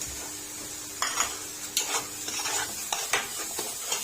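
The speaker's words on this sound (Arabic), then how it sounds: "شوح كده الجزر مع البصل مع البهارات" Carrots and onions with spices sauté in a pot for basmati rice, with a soft background sizzle broken by repeated scraping, clattering strokes of a spoon stirring against the metal.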